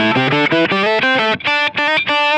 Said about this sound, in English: Here's the harmonizer before the distortion.